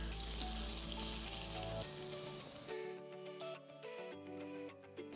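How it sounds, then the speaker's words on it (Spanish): Beef tenderloin sears in a hot frying pan, its hissing sizzle strongest in the first few seconds and then fading, all beneath continuous background music. "Ya que nuestro sartén está en la temperatura correcta, comenzamos a sellar nuestro solomillo."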